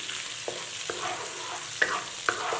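Minced garlic and chili garlic sauce stir-frying in hot oil in a wok, a steady soft sizzle broken by a few scattered spatula scrapes and clicks, close and even, no voices.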